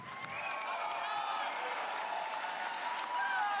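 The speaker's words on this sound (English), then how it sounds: "High energy crowd today, gotta love it." A large esports arena crowd in Berlin roars and cheers continuously, a dense wash of voices and whistles with sustained energy throughout.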